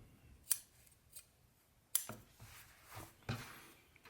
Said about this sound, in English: I'll finish it all out with my scissors